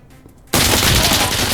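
Sustained automatic gunfire from the video game Insurgency Sandstorm bursts in loudly after a quiet half second and keeps on as a dense, continuous volley.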